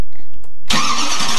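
A car engine starts up in a video game: a brief cranking whir gives way to a sudden loud catch and a steady roaring idle, close and alone.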